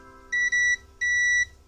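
A digital multimeter in continuity mode beeps while probing a track shorted to the CPU on a Redmi 9 series phone board: two loud, close electronic tones, the first briefly broken, the second longer, over a quiet low hum.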